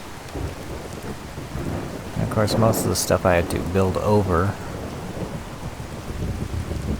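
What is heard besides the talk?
rain and thunder in Fallout 4 video game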